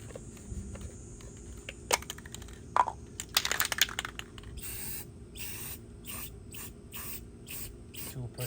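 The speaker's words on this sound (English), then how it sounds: "So I'm gonna put first Rust-Oleum and then" Rust-Oleum rust protection sprayed from a can onto a van body during bodywork, a series of short hissing bursts in the second half, each about half a second long, after clicks and rattling from handling the can.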